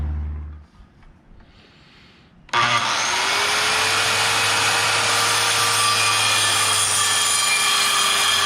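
After a quiet pause, a power saw starts up and cuts steadily through a live edge wood shelf for a kitchen, a loud continuous whining rasp close by.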